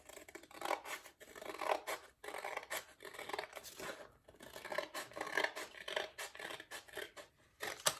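Scissors cut through paper to trim it into a square, giving a continuous run of crisp, quiet snipping and crunching strokes with brief pauses between cuts.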